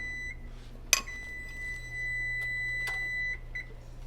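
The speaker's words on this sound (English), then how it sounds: "Now, that's not going to beep anymore." A kitchen timer beeps in a steady high tone, a short beep, then a longer continuous one, followed by a quick final chirp in a quiet room.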